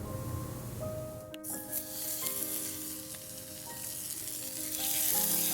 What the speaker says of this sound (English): Give it a quick sear.